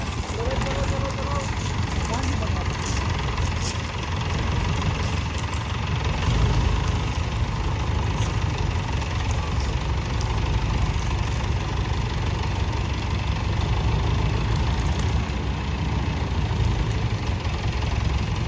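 A tractor engine idles with a loud, steady low rumble throughout. Speech is heard now and then over the engine.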